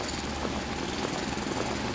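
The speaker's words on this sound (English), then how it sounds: "I can hear his drill." A steady mechanical drone from a mining drill in the factory-building game Foundry, continuous and fairly loud throughout with a faint pulsing texture and no talk.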